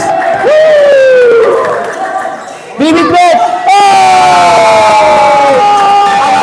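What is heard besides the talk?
crowd clapping and cheering at a basketball game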